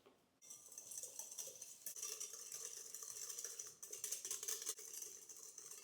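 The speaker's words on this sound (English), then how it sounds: "We're going to do a 1/3 cup of sugar. And we're going to and we're going to whisk that very well." A whisk beats sugar in a bowl, making a quiet, continuous scraping and rattling with brief clinks against the sides, heard alone and fairly close.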